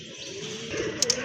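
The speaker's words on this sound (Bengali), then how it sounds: "এই যে দেখেন আপনারা দেখার মতো এক জোড়া কবুতর" A pair of domestic pigeons coos softly and close by in a low, rolling murmur, with two sharp high chirps near the end over a quiet background.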